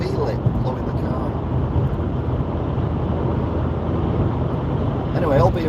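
Steady low roar of a car on a UK motorway at night in rain, strong wind buffeting the body; broadband rumble holds throughout with faint voice traces at the start and end.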